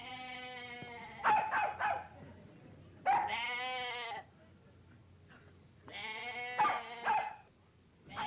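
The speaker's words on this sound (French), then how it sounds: "Tu vois le mouton qui s'éloigne là-bas?" Sheep bleating in a rural setting, three drawn-out wavering bleats spaced a couple of seconds apart, moderately close and clear with low background noise and no talking.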